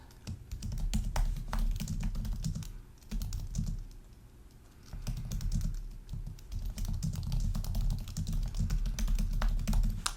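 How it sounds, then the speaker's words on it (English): Rapid clicking on a computer keyboard carries on for about ten seconds, close and steady, with short pauses between bursts of keystrokes and a low background hum. "sorry, I can't type and speak at the same time very easily"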